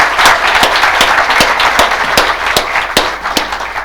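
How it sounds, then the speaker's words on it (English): An audience claps after a speaker's talk at a Q&A session for an oil and gas company CEO, loud and close. The applause holds steady throughout, with a few sharp individual claps standing out from the crowd. "I'd really like to give Sumayya a great round of applause"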